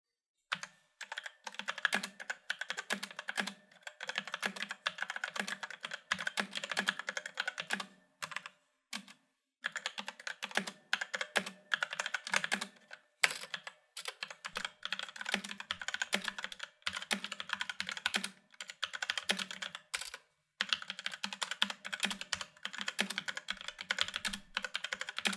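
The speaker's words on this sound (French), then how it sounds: "je vais écrire sur mon clavier pour voir lequel des deux micros détecte le plus le bruit des touches" Typing on a G-Lab Case Rubidium computer keyboard produces fast, continuous key clatter with short pauses, recorded close and fairly quiet, with no talking.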